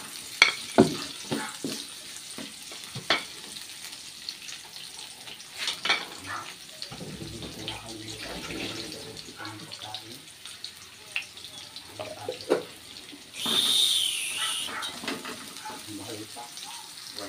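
Onions sizzle in a pan for pork afritada, a soft steady frying hiss under scattered clatter of utensils, with a louder hissing burst near the end.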